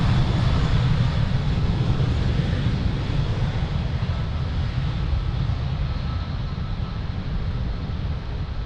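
Airliner taking off from runway 02 at Lisbon Airport, a steady, loud broadband engine roar with heavy low rumble that holds level throughout and fades only slightly toward the end.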